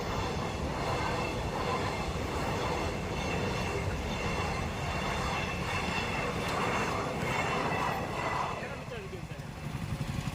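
A train rumbles continuously past a level crossing while road traffic waits nearby, its loud rolling din steady for several seconds before easing slightly, with voices talking over it.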